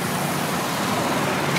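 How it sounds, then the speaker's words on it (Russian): Rush-hour road traffic in India rolls past as a steady, dense wash of car and engine noise at moderate level, continuous and unbroken, with no voices heard. "Все нормально движется, просто на дороге много машин."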